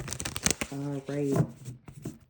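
Tarot cards being shuffled during a reading, quick riffling card flutters mixed with brief clicks, partly under a voice that speaks over them.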